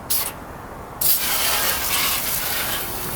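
An aerosol can sprays in short hissing bursts onto a burnt 2016 GMC Yukon Denali, a brief blast followed by a longer steady spray.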